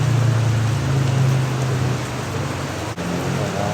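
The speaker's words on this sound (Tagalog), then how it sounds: "biglang lumakas ang ulan" Heavy rain in the Philippines falling steadily, a dense continuous hiss with a low rumbling hum underneath, no talking.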